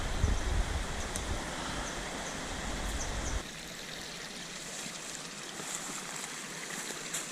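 A forest stream tumbles over stones below a trail near a cave in the Zakarpattia mountains, a steady broadband rushing that is louder at first, then softer and more distant.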